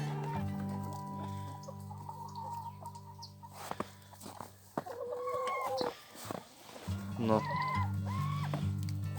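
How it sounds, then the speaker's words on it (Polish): An Araucana rooster makes a few short clucks and calls in a snowy poultry yard, close by and intermittent. They sound over steady background music and a person talking. "Tu jest ten kogucik araukany."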